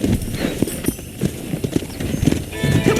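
Horse hooves clip-clop in a Western frontier setting in Red Dead Redemption, a close rhythmic run of hoof strikes on the ground, loud and steady under background game sound.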